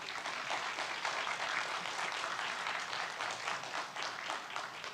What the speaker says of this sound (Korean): 박수로 다시 한번 환영하고 말씀 듣도록